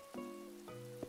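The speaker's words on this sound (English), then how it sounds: "Either way, I love the rain sounds. Beautiful." Steady rain patter in Animal Crossing rolls beneath sustained electronic musical tones, with a few soft note onsets over about a second.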